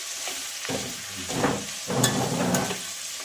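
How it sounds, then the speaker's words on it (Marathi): Dry spices and masala frying in oil in a pan for a chana masala rice dish, a steady close sizzle with soft stirring scrapes swelling in bursts, no voices. "छानपैकी याला आपण दोन ते तीन मिनटं फ्राय करून घेऊया"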